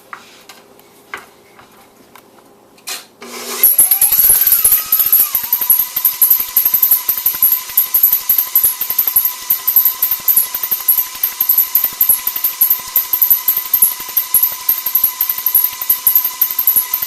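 An electric stand mixer creams a stick of soft butter with about three quarters of a cup of brown sugar, starting after a few quiet seconds into a loud, steady whirring drone with a fast, rhythmic ticking clatter of the beater.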